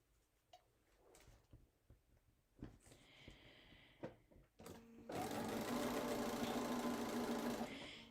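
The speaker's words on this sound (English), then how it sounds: "some of you are probably cringing because I'm sewing over pins" Sewing machine stitching quilt-block fabric straight over pins, preceded by scattered small handling clicks, then a loud continuous whirring run of several seconds close by.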